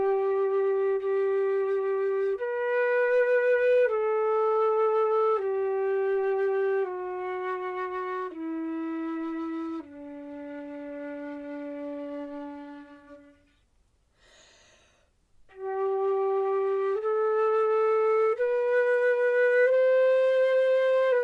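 Flute playing a slow phrase of sustained notes stepping downward, with the final low note held long before a quick audible breath, then a new phrase of held notes rising step by step, clear and close with no talking.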